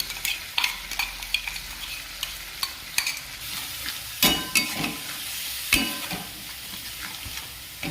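Ground spinach paste with ginger and garlic sizzles in spiced oil as it is stirred, a steady close frying hiss broken by irregular scrapes and clinks of a utensil, without any talking.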